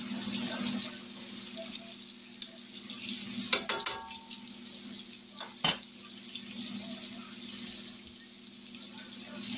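Pork chops sizzle in a pan on a stovetop burner, a steady bright hiss with a few soft clinks of utensils partway through.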